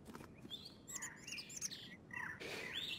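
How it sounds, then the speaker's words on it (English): Birds chirp and tweet in the Virtual Universe video game, several bright calls overlapping in quick bursts over a steady low background hum, moderately close and fairly quiet. "Whoa, damn these birds."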